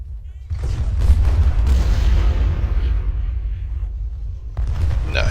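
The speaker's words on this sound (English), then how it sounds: "There you go, shoot them." Cannon and artillery fire from a Civil War strategy battle in Ultimate General: Civil War, a dense rolling rumble of booms that swells and holds, with shots layered continuously through the clip.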